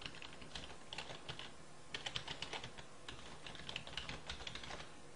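Quick, light clicks of fingers on a computer keyboard, irregular bursts of keystrokes with short pauses between them, close and fairly quiet with no voices.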